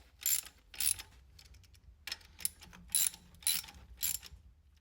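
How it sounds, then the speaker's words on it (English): Ratchet clicks in about six short bursts while tightening the three thermostat housing screws on an engine, close and fairly quiet with pauses between strokes and no talk. "Tighten the 3 thermostat screws, being careful not to over-tighten, which can crack the thermostat housing."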